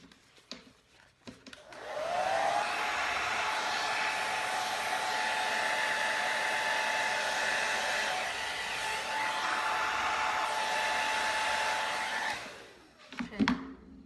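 Steady hair dryer blowing for about ten seconds across an acrylic Dutch pour, pushing fluid paint into ocean-wave patterns; a constant, fairly loud whine with a faint tonal hum that cuts off abruptly, with brief handling noises before and after.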